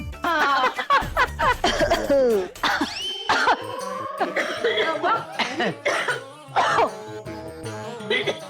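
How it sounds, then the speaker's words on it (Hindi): A person coughs repeatedly in a Hindi TV drama domestic scene, the bursts mixed with chuckling and voices talking close by. "खांसना बंद कर दे।"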